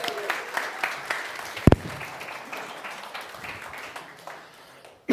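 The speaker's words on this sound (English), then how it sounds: "Big cheer for Alfie" A small audience at a talk claps for a volunteer named Alfie, scattered and fairly light clapping with a sharp knock partway through and faint voices beneath.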